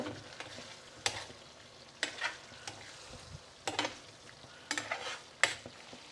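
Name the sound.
stirring tofu into simmering tikka rezala gravy in pan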